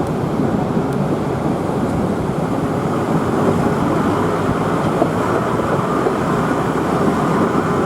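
The Savannahlander train runs steadily along the rails between Kuranda and Mareeba, a loud, continuous rumble of wheels and carriages heard up close with no break and no voices.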